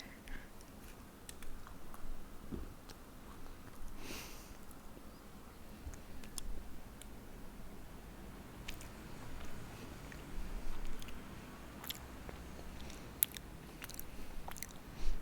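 Someone eating a slightly soft chocolate cookie, with close, quiet, irregular chewing and soft mouth clicks over a low background hum, without a crunch.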